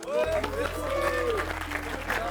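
Audience applause at a cinema quiz night, clapping from a crowd mixed with chatter and a host talking over it, along with a low steady hum.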